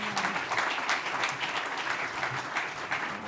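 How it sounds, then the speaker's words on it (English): A conference audience at a transport event claps steadily for a panel, a dense and continuous wash of applause from a sizeable crowd, heard at moderate distance without talking. "Can we have a round of applause for our panel?"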